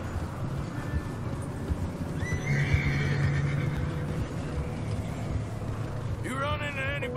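A ridden horse in Red Dead Redemption 2 gives a loud, wavering neigh near the end, over a steady bed of wind and hoof noise, with someone speaking briefly earlier.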